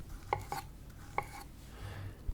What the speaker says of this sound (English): Getting each banana sliced, slicing three bananas at once here.